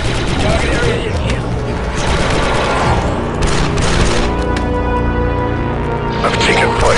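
Rapid blaster gunfire and booming explosions in the video game Star Wars Republic Commando, a loud dense barrage throughout with mechanical clatter, voices speaking over the combat.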